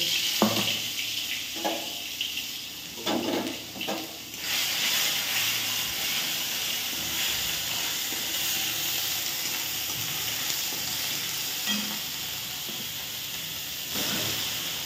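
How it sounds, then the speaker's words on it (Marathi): Onions, tomatoes, garlic cloves and a piece of ginger go into hot oil for a paneer dish, giving a steady broad sizzle and hiss with a few soft clatters at the start, fairly close and alone without talk. "ते आपण तेल गरम झालेलं आहे त्याच्यामध्ये टाकूया."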